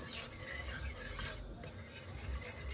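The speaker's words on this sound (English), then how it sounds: "You want to whisk" A fork whisks butter, cream cheese and milk in a pan, giving brief close scraping and stirring with a faint sizzle beneath.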